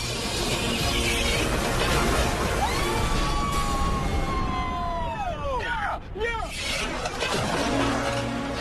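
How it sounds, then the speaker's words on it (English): A car crashes during a road rage test, a sustained noisy rumble with sweeping tonal whines before a sharp impact, under excited voices. "That was a crash."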